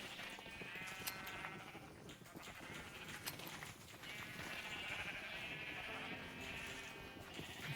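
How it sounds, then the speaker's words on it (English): Sheep in the Minecraft Create mod bleat repeatedly, several animals calling over one another in an overlapping chorus over a soft game background, with no talking. "There are enough sheep here, right?"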